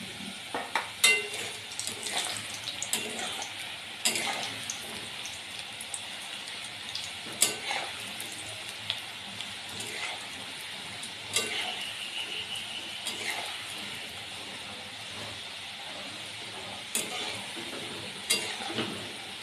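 Khasta modon bhaja pastries fry in hot oil over a low flame, a soft steady bubbling sizzle punctuated by intermittent clinks and scrapes of a utensil against the pan.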